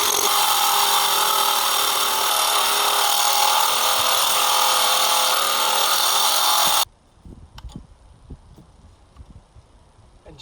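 A power tool cuts through a steel axle for a homemade culti-packer, a loud, steady high-pitched grinding whine that runs for about seven seconds and then stops abruptly, leaving quiet scattered clicks and clunks.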